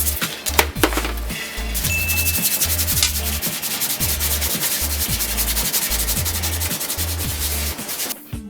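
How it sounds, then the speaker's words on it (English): Coarse sandpaper rubs against a helmet in quick, rhythmic back-and-forth strokes, a loud close scratchy rasp repeating steadily, ending with a brief pause. "the coarser sandpaper and start sanding"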